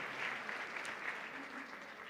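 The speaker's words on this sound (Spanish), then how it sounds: "Dale un fuerte aplauso al Señor por su amor y por su misericordia." A church congregation applauding during a sermon, a faint, steady wash of distant clapping that holds evenly throughout.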